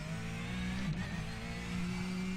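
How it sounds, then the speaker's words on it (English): Porsche 911 GT3 Cup race car engine in iRacing at Sebring, a loud, steady mechanical drone holding a constant pitch, with a brief dip and wobble near the one-second mark before settling back. "These cars are loud like a race car should be."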